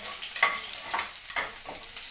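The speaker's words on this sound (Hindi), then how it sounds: "ये मैं इसमें पहले लहसुन और मिर्च का तड़का दूंगी" Garlic and chili tempering sizzles in a hot pan, a continuous bright crackle and hiss with occasional louder pops and stirring scrapes.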